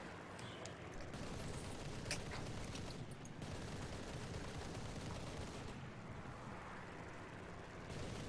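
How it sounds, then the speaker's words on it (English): Aircraft cannons firing in War Thunder, a dense continuous rattle of rapid gunfire layered with rumbling explosions and engine noise throughout, steady and loud with no voices. "I can hear those cannons going racka-dacka-dacka-dacka-dacka"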